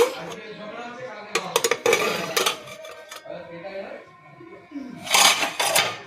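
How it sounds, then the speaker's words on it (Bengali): A metal lid lifted off a cooking pot of shukto, the Bengali vegetable dish, with clanks and scrapes of metal on metal, heard close under someone speaking. "এই দেখুন আমি এবারে ঢাকা খুলে দেখাচ্ছি।"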